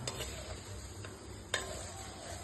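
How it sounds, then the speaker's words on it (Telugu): Mustard seeds fry in oil for a gongura (sorrel leaf) pickle, giving a faint, steady sizzle broken by a few sharp, isolated pops and crackles. "ఆవాలు ఇందులో కొంచెం ఎక్కువే పడతాయండి, సో వేసుకొని వేయించుకోండి."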